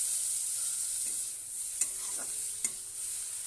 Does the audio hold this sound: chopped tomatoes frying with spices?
yes